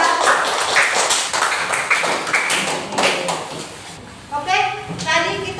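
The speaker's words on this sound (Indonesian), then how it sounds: "Beri tepuk tangan kelompok 3" Students clap for a group presentation in a school classroom, a dense patter of many small hands for several seconds that thins out, with children's voices rising toward the end.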